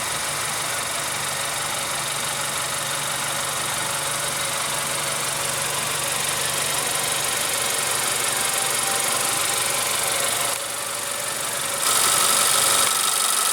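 A 2016 Honda Accord's 2.4-liter inline four-cylinder engine runs at a steady idle, an even mid-pitched hum with light vibration, heard alone and close, rising slightly in level toward the end.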